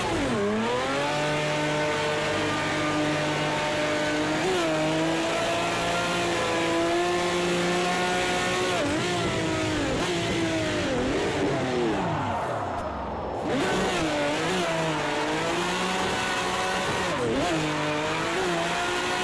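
A turbocharged drift car in Project CARS 2 with the ProComp Drift mod, its engine loud and close throughout, revs rising and falling in repeated swoops with a brief dip near the end, and a spiky, uneven turbo note.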